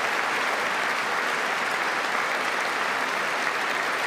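Continuous applause fills a legislative chamber following a State of the Union speech, many hands clapping in a dense, even wash at moderate volume, steady from start to finish.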